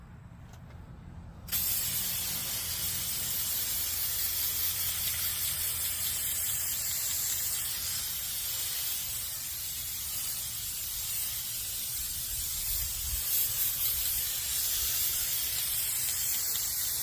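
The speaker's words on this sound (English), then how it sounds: "I just sprayed the glue on here to tack this down" Spray adhesive hisses steadily from a can onto material being tacked down, a continuous close, loud spray lasting over fifteen seconds after a brief quiet start.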